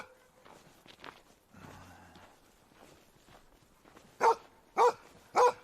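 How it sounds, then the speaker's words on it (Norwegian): A dog barks three times in quick succession near the end, loud and close, after a stretch of quiet outdoor shuffling and faint movement on a snowy walk. "Du trenger ikke å bjeffe så høyt."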